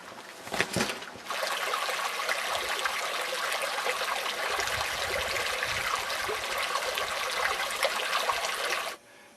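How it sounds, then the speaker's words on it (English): Redwood Creek flows below a hiker standing on a redwood log crossing it, a steady, full rush of running water filling the scene from start to finish with no voices, cutting off abruptly at the end. "I think this is Redwood Creek below me"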